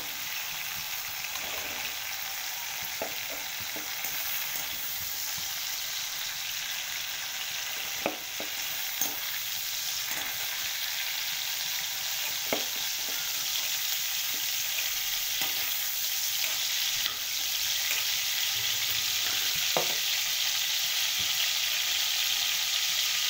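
Pieces frying lightly in a pan for a dhaba-style chicken dish, a steady close sizzle with scattered clicks and scrapes of stirring running throughout, no voices.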